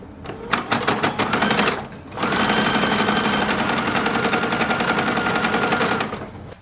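A sewing machine top-stitching the seams of a 1940s-style uniform dress, a loud rapid mechanical rattle in two runs, a short burst and then a longer steady stretch after a brief pause.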